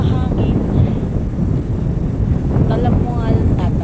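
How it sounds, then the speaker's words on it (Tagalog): Strong wind outdoors in a New Zealand city buffets the microphone with continuous low rumbling gusts, while a person speaks over it intermittently. "Pero mahangin."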